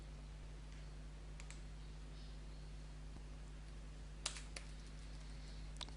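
A computer mouse clicks through links, making a few faint, isolated clicks spaced seconds apart over a quiet background hum.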